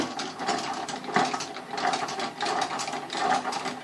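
A Tru Tuner drum tuning disc being spun to loosen the drum's tension lugs, giving a continuous close ratcheting clatter of rapid mechanical clicks with a gently pulsing rhythm and no talking.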